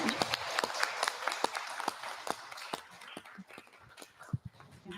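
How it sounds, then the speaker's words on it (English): Scattered, thinning applause from a live audience at an anniversary celebration, individual claps clearly separate, fading toward the end with some background voices. "Round of applause."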